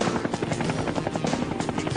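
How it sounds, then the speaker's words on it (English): A helicopter flies over Miami, its rotor thudding in a fast, steady rhythm that stays loud and close throughout. "I've never been in a helicopter over Miami, over my own city"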